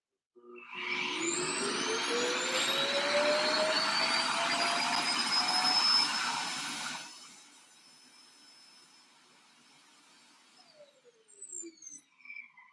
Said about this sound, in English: we have a robot vacuum or a vacuum robot, whatever it's called. And when it's going back on its base, it makes that noise